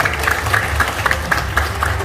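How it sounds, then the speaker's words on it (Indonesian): Applause from an audience at a seminar on paying off debt without interest, heard as a short burst of loud, fairly rhythmic clapping over a low rumble. "terima kasih tepuk tangan yang sangat meriah untuk Bapak Didit Eko Ardianto"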